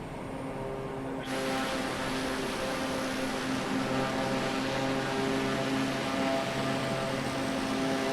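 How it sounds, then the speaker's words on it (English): Steady engine drone and broadband rush inside a small charter aircraft in flight, constant and fairly loud with a low tonal hum throughout, no talking. "Quieter inside the aircraft."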